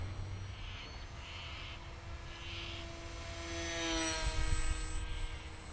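Motor of an FPV wing prototype on its first flight, run at full throttle while climbing; a steady buzzing whine with rising pitch sweeps, moderately near and alone, swelling louder toward the end.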